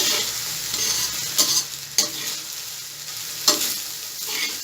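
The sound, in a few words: stirring chicken fried rice in a hot pan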